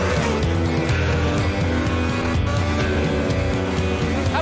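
Formula One cars at the start of a desert race, a loud, dense roar of many high-revving engines screaming together as the pack launches into the first corner, continuous and close.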